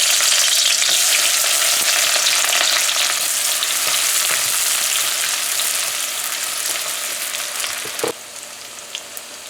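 Onions fry in hot oil for a dish of long beans with salted fish, giving a loud, dense sizzle with scattered crackles and stirring clicks that drops in level and thins out near the end.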